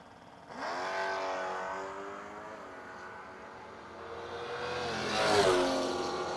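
Two drag cars, a 1966 Chevelle and a 1983 Regal, launch and roar down the strip in a loud revving pass at a No-Box 660 shootout, the engines surging and fading before a second burst swells near the end.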